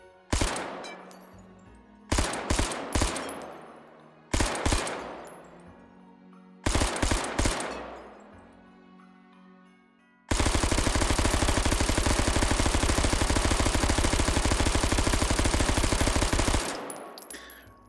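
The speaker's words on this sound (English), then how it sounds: "It is a pretty cool submachine gun" A submachine gun in the VR game Hot Dogs, Horseshoes & Hand Grenades fires four short bursts separated by pauses, then one long sustained stream of rapid automatic fire, loud and close, with almost no talk.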